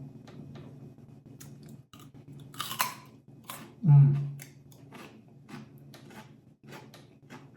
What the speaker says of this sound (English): You can hear the sound of the crunch.